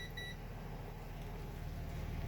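A quick pair of short, high electronic beeps from a multimeter at the very start, then only a steady low hum for the rest.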